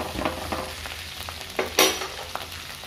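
Continuous sizzling of ivy gourds frying in oil, with scattered crackles and stirring scrapes, one sharper pop near the middle.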